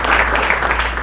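Applause from a congregation during a church service, a steady dense patter of clapping filling the whole short moment without pause.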